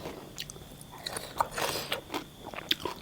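Crunchy blanched squid, boiled and then plunged into cold water, is bitten and chewed up close, with soft irregular crisp crunches and wet mouth clicks over a few seconds.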